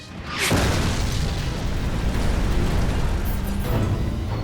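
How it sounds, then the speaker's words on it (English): A deep, loud boom from a Panzerfaust shaped-charge anti-tank round striking armor, with a sharp onset followed by a long, rumbling roar that holds steady for several seconds. "It fires a shaped charge at ranges of up to 30 meters and can penetrate almost 200 millimeters of armor, unleashing a devastating explosion inside."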